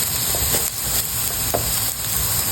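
Chicken pieces and vegetables searing in a hot pan, with a steady close sizzle throughout and a few soft scrapes of stirring.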